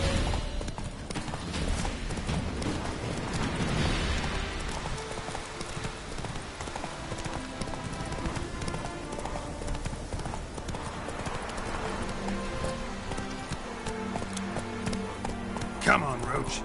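A horse galloping in The Witcher 3: Hearts of Stone, with rapid, continuous clip-clop hoofbeats under game music and ambience, a brief whinny near the end, and voices talking over it.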